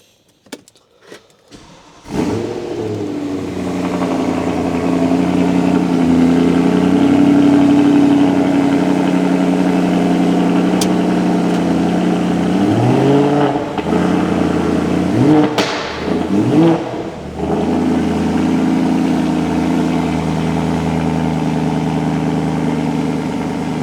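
A BMW E92 M3 with the 4.0 engine and DCT gearbox starts up loudly nearby and settles into a steady idle, then gives several sharp throttle blips with quick revs rising and falling.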